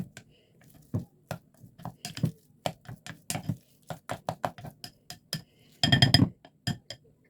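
Cooked food for a cottage pie is mashed in a bowl, giving sharp, uneven clinks and knocks that speed up into a dense cluster near the end. The strikes are close and fairly loud, with quiet gaps between them and no talk.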